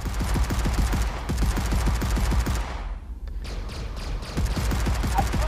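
Spaceship weapons fire in the Phantom Galaxies video game: rapid, evenly spaced blasts in a fast rhythmic stream. They stop briefly for a short quieter gap, then resume at the same pace, loud and near.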